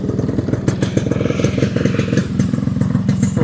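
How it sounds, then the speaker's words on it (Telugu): A 1986 Yamaha RX-100 motorcycle engine runs up close with rapid, uneven popping pulses and a clattery mechanical rhythm. "సో బైక్ అయితే స్టార్ట్ అయిపోయింది."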